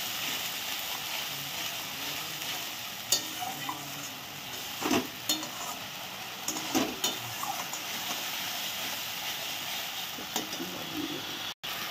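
Spice paste with ginger and garlic for an egg curry is stirred and fried in a pan: a steady sizzle runs throughout, broken by sharp scraping strokes of the spoon at irregular intervals.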